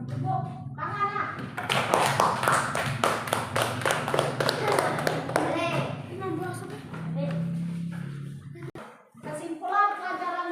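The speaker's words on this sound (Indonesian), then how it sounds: "Ya, tepuk tangan." Children clapping their hands together in a classroom, a burst of quick rhythmic claps mixed with voices, followed by quieter chatter and a few scattered final claps.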